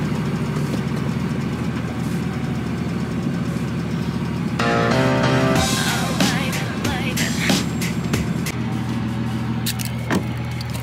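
An old Volvo 240 engine runs steadily with a low, continuous hum, and a brief whirring mechanical burst rises midway; no one speaks.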